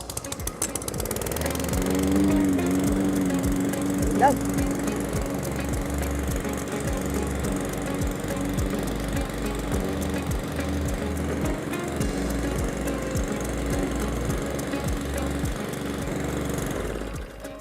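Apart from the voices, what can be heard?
Cobra M51SPCVX self-propelled lawn mower engine running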